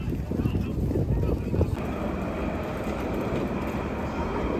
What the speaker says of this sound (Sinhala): මේ ලුසෙල්ල ටවුන් එක මැදින් යන ට්‍රෑම්ප් එකක් තමයි මේ.